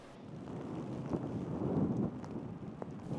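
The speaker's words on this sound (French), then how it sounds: "Ce matin, le vent et la pluie s'abattent sur Jérusalem" Wind and rain sweep over Jerusalem in the morning, a steady rushing roar with gusty swells buffeting the microphone, no voices heard.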